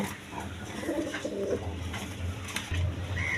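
Healthy pigeons at a fancy pigeon sale coo in low, repeated murmurs close by, with a steady background hum and no clear talk.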